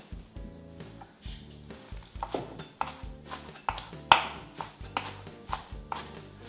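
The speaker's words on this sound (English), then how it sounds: "Once we have the arugula, we'll put it here and we're just gonna chop it up." A knife chops arugula on a cutting board, irregular knocks of the blade against the board repeating close and fairly loud over several seconds, with no speech.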